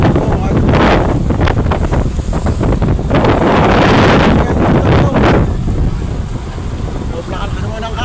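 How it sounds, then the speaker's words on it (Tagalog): Strong wind at sea on a small fishing boat, a loud roaring rush battering the microphone nonstop, with surging gusts and sloshing water mixed in and someone talking over it. "Lakas na naman ang hangin"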